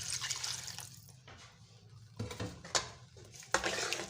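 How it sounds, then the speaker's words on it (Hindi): Water is poured into a pan of fried potato masala, a splashing pour followed by metallic clinks of a spoon or vessel against the pan, close and fairly clear. "मिक्स करने के बाद हमने इसमें आधा गिलास पानी डाल लेना है।"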